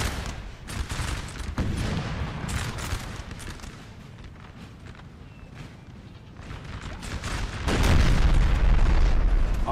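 Artillery fire rumbles through a Napoleonic battle in Napoleon Total War, with repeated booms and volleys over a constant low roar that swells louder toward the end. No one speaks.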